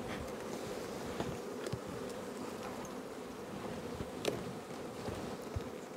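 Honeybees swarming at an opened hive during queen introduction, a continuous dense buzzing drone with occasional louder individual bees passing close.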